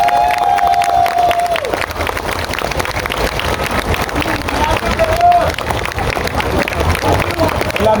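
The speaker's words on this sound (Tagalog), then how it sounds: "pwede bang yung pinakamalakas nyong palakpak para sa kanila?" A large audience of fellow government employees claps and cheers loudly and steadily for honoured retirees, a dense continuous roar of hands with a voice faintly carrying over it.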